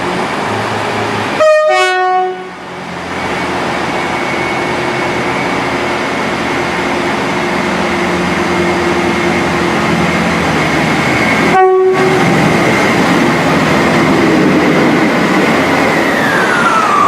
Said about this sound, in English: There goes 158833 working the 2022 Transport for Rail Service to Crewe.